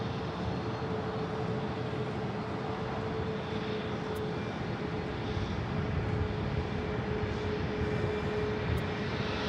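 An airplane roars steadily at Phoenix Sky Harbor Airport, a broad sustained engine rumble and hiss that stays loud and continuous with no voices.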